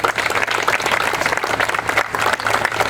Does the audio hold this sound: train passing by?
no